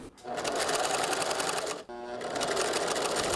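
A sewing machine runs a seam backwards and forwards at a short stitch length, a fast steady whirring with a brief stop partway as it reverses, close and loud.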